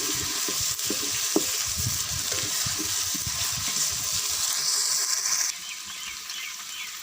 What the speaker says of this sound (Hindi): अदरक लहसुन का पेस्ट जो है ब्राउन होने तक इसको हम पकाएंगे।